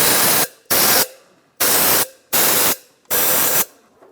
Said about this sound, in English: You can just take a little compressed air and just make sure you get all the sand and dirt out of there.